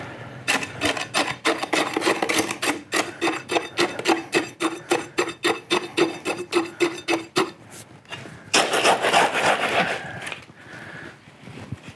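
A steel tamping rod strikes fresh concrete in a slump cone during a slump test. The strokes come as a steady run of crisp, rhythmic scraping hits, close and fairly loud, then stop, followed by a brief rougher burst.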